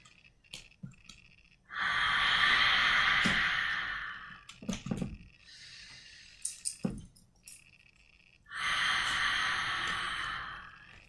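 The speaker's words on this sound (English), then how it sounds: "Let's start with a deep breath into our belly." Deep, slow breaths during a yoga session: two long airy exhales a few seconds apart, close and fairly loud, with quieter breathing and small sounds between them.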